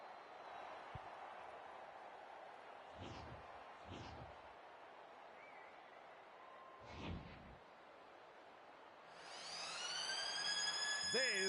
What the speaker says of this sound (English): There's the siren for half-time.